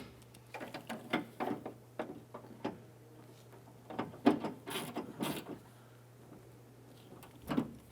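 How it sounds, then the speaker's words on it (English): Bolts on the exterior driver door handle of a 2001-2005 Honda Civic are snugged down with a hand tool, producing scattered short clicks and ratcheting knocks in irregular bursts, close up over a low steady hum. "I'm going to go ahead and snug down our bolts for our handle"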